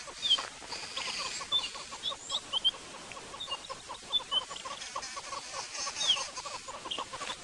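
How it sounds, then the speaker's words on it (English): Many birds call from trees during a sunrise safari drive, repeated chirps and clucking notes overlapping in a busy, moderately distant chorus. "We've got lots of birds in trees."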